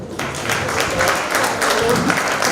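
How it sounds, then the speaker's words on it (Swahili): Applause from a church congregation at a Christmas celebration, a steady dense wash of clapping filling the room for a few seconds with voices mixed in. "Tunaelekea makofi mengi."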